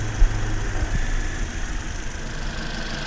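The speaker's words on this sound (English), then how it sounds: "As you can see, the engine is running very well." A Toyota car engine idling steadily after an ignition coil replacement, a close, even low hum and rumble with a small knock near the start, no talk.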